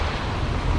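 Surf washing onto a clear-water beach on Phi Phi Island, Thailand, a steady broadband rush with wind buffeting the microphone throughout, no voices.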